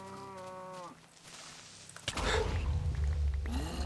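Minecraft cows: one harmonic moo opens the clip and cuts off, then after a quiet gap comes a loud burst of noisy, rumbling game sound, and a second moo rises near the end. No talking.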